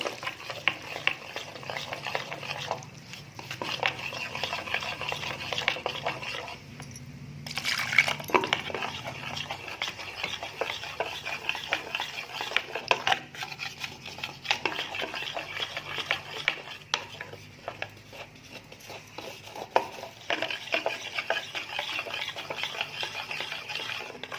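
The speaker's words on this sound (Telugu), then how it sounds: "దీన్ని పాలతో ఉండలు లేకుండా కలుపుకోవాలి." A spoon stirs cornflour into milk for a festive sweet, making a steady close scraping, swishing sound that runs throughout with small liquid sloshes and clinks.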